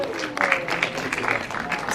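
Audience applause welcoming a film director onstage at a press conference for a horror film premiere, steady clapping throughout, moderately loud, mixed with a host's voice talking over it.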